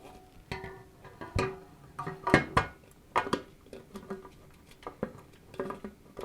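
A white-painted beauty dish light modifier is handled and fitted back onto a light stand in a studio, giving a series of close metallic clanks, knocks and rattles at irregular intervals.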